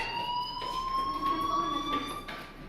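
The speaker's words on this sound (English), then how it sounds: "Hey, do you hear that fire alarm?" A fire alarm in the video game Life is Strange rings continuously with a steady, piercing electronic tone, fairly quiet and somewhat distant, with no talking.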